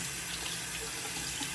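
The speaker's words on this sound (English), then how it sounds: "So first, what I'm gonna do, I'm gonna wash my face first." Steady rush of water from a bathroom tap while washing the face, continuous and close, with no talking over it.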